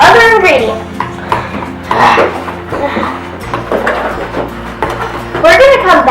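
Slime stirred in a mixing bowl at home, with clattering and scraping against the bowl in irregular bursts, loud and close, alongside background voices.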